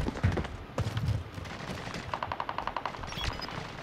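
Assault rifle gunfire in an online shooter game comes in quick bursts of rapid shots, fairly close, mixed with other distant shots and game noise.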